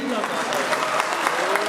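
Crowd applause for the godfather at a festive family celebration, a dense, steady wash of clapping that holds for under two seconds with voices or music mixed underneath.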